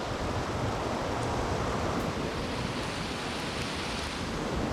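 A heavy rain downpour pours down on a cliffside as a dense, steady roaring hiss of rainfall, loud and unbroken throughout with no talk.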